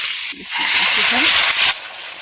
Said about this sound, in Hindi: सबसे पहले इसके अंदर ऑयल डाल दें, चॉप गार्लिक डाल दें, तो हल्का सा सॉटे करेंगे